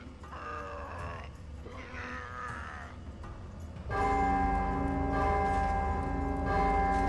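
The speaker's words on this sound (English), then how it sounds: "maybe you need to ring both bells at the same time" Large bells ringing in the God of War II video game, a dense metallic clang that swells partway through and keeps resonating with sustained ringing overtones, with no talking over it.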